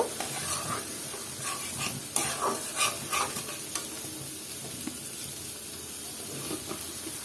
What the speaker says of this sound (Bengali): এখন এটাকে আবার একটু নেড়ে চেড়ে দিব মশলাটার সাথে ভালো মতো কষিয়ে নিব